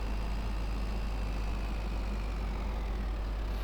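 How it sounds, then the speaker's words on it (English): A Ford 40 series tractor engine idles in a steady, even low rumble that continues without a break, heard close and fairly loud with no talking. "this tractor that we're in right now, this is my Ford 40 series"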